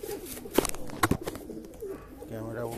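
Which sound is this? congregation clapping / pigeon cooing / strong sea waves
pigeon cooing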